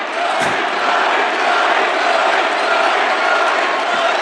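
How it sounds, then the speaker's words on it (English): A Republican campaign rally crowd cheering loudly and continuously, a dense roar of many voices with no individual speech standing out. "They're cheering an environmentalist."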